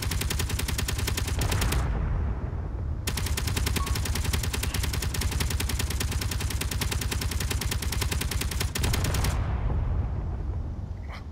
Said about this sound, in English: those are some cool explosions.